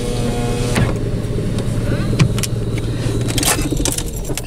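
A 1984 Mercury Marquis idles with a steady, close engine hum as it is switched off, with keys jingling and clinking at the ignition.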